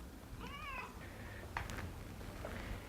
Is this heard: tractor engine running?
no